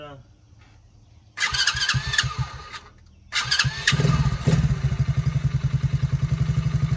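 A TAO 110cc ATV with a swapped engine cranks with whirring and squealing, catches briefly, cranks again, then settles into a loud, close, rhythmic putter, with a voice audible near the start.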